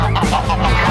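Ducks honking loudly and close by in a garden, a burst of overlapping nasal calls packed into about a second.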